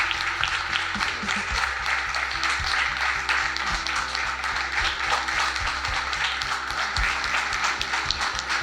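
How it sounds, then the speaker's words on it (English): A hospital auditorium audience at a research centre inauguration gives a sustained round of applause, dense clapping filling the room steadily for several seconds with faint low hum beneath. "applause."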